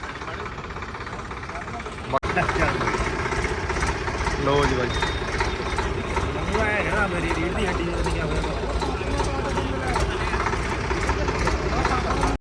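A new Swraj 855 shuttle-gear tractor runs with a steady mid-range engine rumble after a sharp start, while someone speaks over it.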